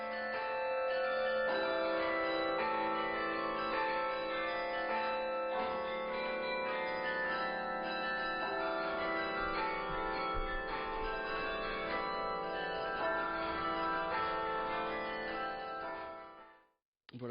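Carillon bells ring out at a summer festival, many pitched bells layered in a dense, continuous melody that stays loud and full before cutting off near the end.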